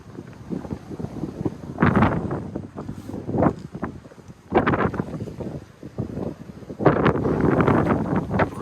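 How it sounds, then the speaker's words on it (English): Gusty wind buffets the top of a bell tower in Kuldiga, Latvia, coming in loud rushing bursts separated by quieter lulls. "Breezy up here today, huh, Jen?"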